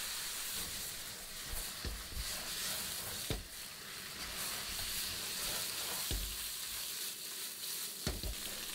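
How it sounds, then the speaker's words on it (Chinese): Crayfish stir-fried with chili sauce and small peppers in a very hot wok, doused with high-proof baijiu. A steady loud sizzle and hiss runs throughout, broken by occasional sharp scraping clicks from stirring. "炝炒出香味"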